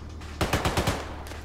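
Rapid burst of automatic gunfire in Arma 3, five or six sharp shots in quick succession, loud and close, then a fainter distant shot trailing off, with no talking.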